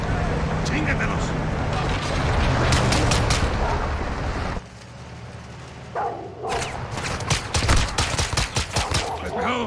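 Rapid bursts of gunfire from the Modern Warfare 2 video game ring out amid combat noise, with a brief lull and then sharp, clustered volleys of loud shots; voices talk through parts of it.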